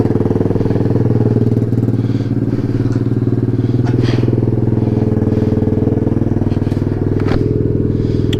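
A Chinese pit bike fitted with a new $8 air filter idles up close, its single engine chugging loud and steady throughout with a slight rattle. No one talks.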